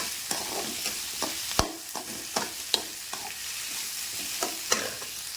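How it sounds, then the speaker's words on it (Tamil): Potato and brinjal being sautéed in a pan for a mango kuzhambu, with a steady loud sizzle of frying under regular scraping stir strokes, close and continuous. "இப்போ உருளைக்கிழங்கு கூட கத்திரிக்காயும் கொஞ்சம் சேர்த்துக்கிறேன். அதையும் சேர்த்து நல்லா வதக்குவோம்"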